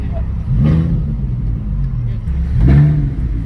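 A Lamborghini Huracán engine rises and falls in two strong revving surges during a street pull, heard from inside the car as a deep, rumbling roar.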